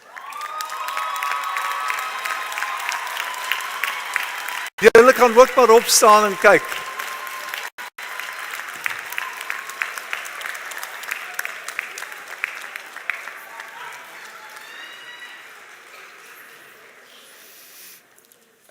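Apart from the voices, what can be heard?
graduation audience cheering and applauding families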